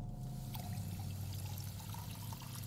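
Liquid poured into a bottle in the hotel puzzle game Haunted Hotel 5: Eclipse, a steady, soft continuous trickling over a low background hum, with no talk.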